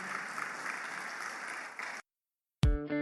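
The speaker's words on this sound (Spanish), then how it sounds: "Denle un aplauso al Señor, por favor," A church congregation applauds in a steady, moderately faint wash of clapping lasting about two seconds, then cuts to silence before a sudden loud musical tone begins.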